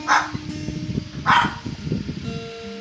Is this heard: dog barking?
yes